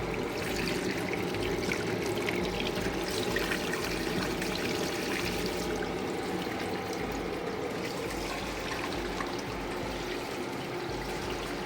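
Cold water pours steadily into a sink for several seconds, a continuous rushing splash with no voices.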